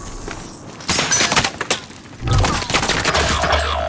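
Rapid bursts of gunfire ring out in the Call of Duty Warzone shooter, with loud close volleys and crackling impacts arriving in two dense clusters.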